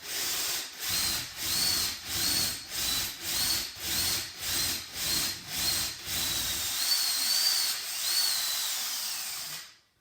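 Rhythmic pulses of a drill boring into a wall, about a dozen short pushes, then a longer continuous grind before it stops.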